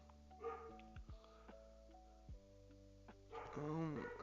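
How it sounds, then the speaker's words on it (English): Several dog barks in a row, fairly quiet and at a distance, behind a steady hum and soft musical tones, with a busier burst of sound near the end. "there goes the dogs again"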